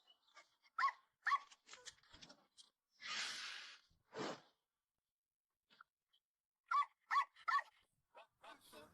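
A dog gives several short barks and yips in clusters, with a longer whining, snorting whimper between them, close and fairly loud against otherwise quiet surroundings.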